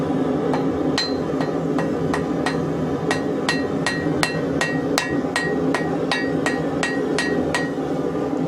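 Hammer blows ring out on thin steel laid on a cold anvil, about sixteen sharp metallic strikes in an uneven but steady rhythm, close and loud over a constant workshop background hum.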